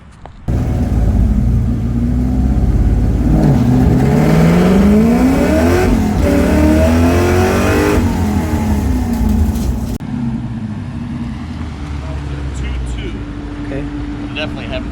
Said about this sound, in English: grab second gear, and it's a haze, but the car's really propelling forward nicely